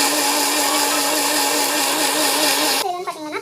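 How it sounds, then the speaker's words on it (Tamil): An electric mixer grinder grinds chutney with a loud, steady whining motor drone that suddenly cuts off near the end, leaving its winding-down hum and rattle. "சட்னி வந்து மிக்சியில் போட்டு அரைச்சிக்கலாம் நல்லா"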